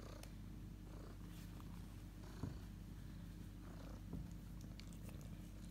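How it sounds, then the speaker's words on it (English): A domestic cat purrs steadily and close by, a low continuous rumble with a couple of soft bumps, no voices. "You are definitely a cat that must have people."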